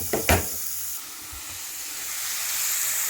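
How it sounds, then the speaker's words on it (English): Vegetables hit hot oil in a pan for a karela leaves curry, giving a couple of loud clattering drops and then a steady bright sizzle and hiss that continues evenly, with no talking. "I just put little bit of oil, and now I am adding all my vegetables."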